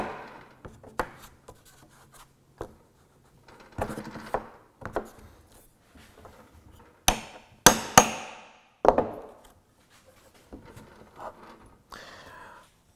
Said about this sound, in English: I'm going to advance the sacrificial board and try to lever the nail above the surface of the wood.